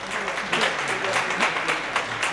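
Brief round of applause from a gathered audience for a volunteer reader, close, dense clapping that holds steady for a couple of seconds with no voices over it.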